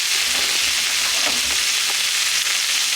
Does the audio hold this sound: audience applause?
no